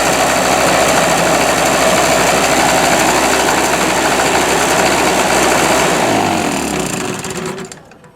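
A Harbor Freight Storm Cat 2-cycle generator engine runs at a steady, loud, buzzing high idle, then winds down and cuts out near the end, with no voices.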